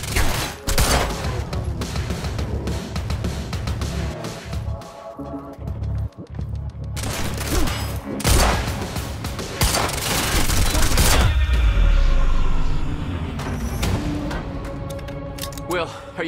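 Dense gunfire in the Quantum Break action game, with bursts of automatic weapons and heavy thuds rattling almost continuously for about sixteen seconds. Shouting voices and game music sit underneath the shooting.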